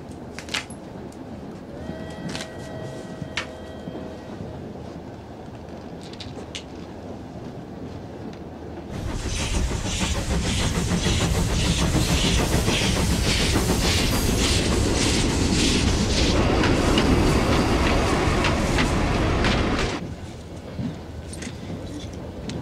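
A train rolls along the rails, starting as a quiet rumble with a few clicks, then swelling into a loud, steady clattering roar for about ten seconds before dropping back to a softer rumble.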